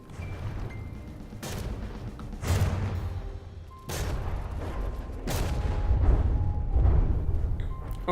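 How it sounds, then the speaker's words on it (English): Repeated heavy booms and blasts from game cannons, several sharp impacts spaced a second or so apart over a constant rumbling battle background. "Let's see if we can dodge these cannons."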